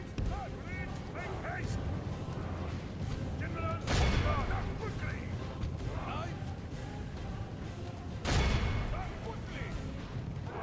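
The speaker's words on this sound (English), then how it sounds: "Enemy artillery is getting inside the castle, unfortunately." Siege battle in Medieval 2: Total War with enemy artillery striking inside a castle: a continuous din of battle noise with two heavy impacts standing out, at about four and eight seconds.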